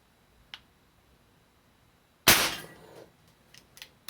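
A custom Crosman 2240 pellet gun fires a single sharp, loud crack close by, followed by a short ringing decay, with faint small clicks before and after in otherwise quiet surroundings.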